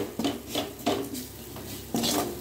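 Onions sautéing on a low flame in a pan, with several distinct scraping strokes of a spoon against the pan at an uneven rhythm over a soft background sizzle, close by.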